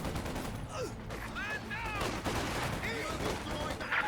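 Maxim machine gun fire in Company of Heroes 2, a dense, busy battle soundscape of rattling gunfire and explosions layered with voice chatter throughout.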